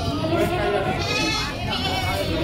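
Goats bleat amid the dense crowd noise of a livestock market at Cipari, Cilacap, with people talking loudly and constantly over and around the animal calls.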